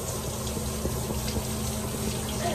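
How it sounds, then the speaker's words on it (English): Water drains steadily from a bathtub after a Yorkie's bath, a continuous close gurgling rush with no voices. "I'm going to go ahead and start draining my tub as well."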